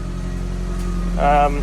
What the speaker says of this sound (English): Started the car, got it in gear.